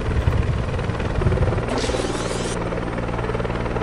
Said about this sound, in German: Den nimmt der Hubschrauber mit.